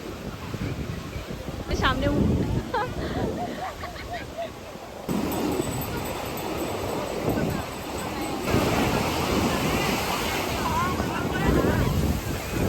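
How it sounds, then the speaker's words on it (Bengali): Ocean surf rolls and crashes steadily on Puri beach, a continuous roar mixed with wind buffeting the microphone, while a person talks over it. "প্রচুর ঢেউ, প্রচুর।"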